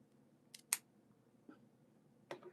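A cutter clipping a Cuban cigar, Romeo y Julieta, with a few short, faint snips and clicks spread over a quiet moment, no talking.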